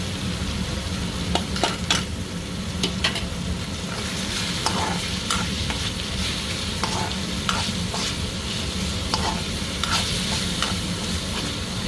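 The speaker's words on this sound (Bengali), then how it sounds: "বেগুনটা অনেক সুন্দর ভাজা হয়ে গেছে।" Eggplant fries in a pan alongside helencha greens, giving a steady close sizzle broken by intermittent scraping stirs throughout.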